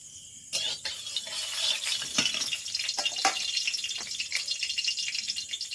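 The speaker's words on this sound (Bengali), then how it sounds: "এবার কড়ার মধ্যে দেব সাদা তেল" White cooking oil goes into a hot wok at home. A soft hiss and crackle starts abruptly and continues steadily, with light clinks and scrapes of utensils close by.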